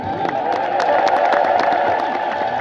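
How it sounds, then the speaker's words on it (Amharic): A crowd at a church celebration at Holy Trinity Cathedral ululates in a sustained, high, trilling chorus, loud and near, with claps and cheers scattered through it. "እልልታው ያንሳል፣ ጨምሩበት።"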